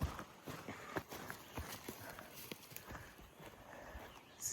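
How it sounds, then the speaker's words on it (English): Cows walk along the Appalachian Trail, their hooves producing irregular, faint clomping steps over a quiet outdoor background. "Cows."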